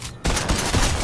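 Video game gunfire: after a brief quiet moment, a rapid burst of loud shots rattles close by in quick succession with no speech.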